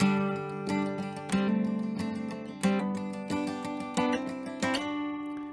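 An acoustic guitar in DADGAD tuning plays an Irish reel melody line, individual plucked notes ringing out in a lilting rhythm with hammer-ons and slides, clear and close with no voices.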